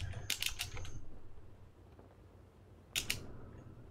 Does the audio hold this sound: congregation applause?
no